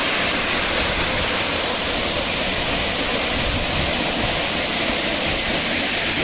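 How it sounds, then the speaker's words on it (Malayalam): A small waterfall on the Idukki-Ernakulam border rushes loudly and constantly, a dense unbroken roar of falling water heard up close with no voices. "നല്ല മനോഹരമായിട്ടുള്ള ഒരു ചെറിയ വെള്ളച്ചാട്ടമാണ്."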